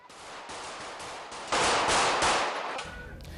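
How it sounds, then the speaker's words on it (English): Police in Turkey return gunfire at attackers in rapid, dense bursts of shots, loud and sharp at mid distance, growing heavier midway through before tapering. "that scary video there shows plainclothes police officers firing back at attackers who shot and killed a prominent lawyer"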